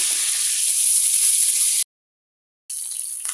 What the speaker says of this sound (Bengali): আট পিস মাছ নিয়েছি একবারে ভাজা যাবে না তো প্রথমে আমি পাঁচ পিস দিয়েছি মাছগুলো ভেজে নিব